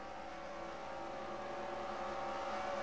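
A tight pack of race cars in a sprint practice session of a racing video game, engines droning steadily at moderate volume and building slightly toward the end, with no talk.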